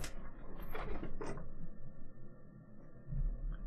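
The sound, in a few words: computer noise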